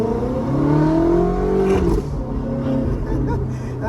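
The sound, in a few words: Ferrari F430 engine revving and shifting to second gear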